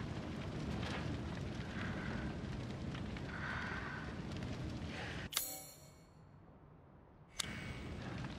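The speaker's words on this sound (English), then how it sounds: "The fire's moving fast." Spreading fire in Resident Evil Village: a dense, roaring blaze rumbles steadily for several seconds, then cuts off abruptly into near silence before a sharp burst returns.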